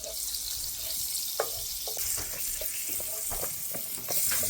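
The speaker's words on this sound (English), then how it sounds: "now we get the margarine into the pan, and that is to fry the pepper." Green pepper frying in margarine in a pan gives a soft, steady sizzle with occasional stirring clicks and scrapes. It sounds close and moderately loud, with no voices.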